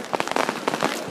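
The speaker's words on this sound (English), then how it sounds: "Don't want to get too close to those fireworks." Fireworks at a Hershey, Pennsylvania fireworks show burst in a rapid, close series of sharp crackling pops, loud and dense for about a second with no talk.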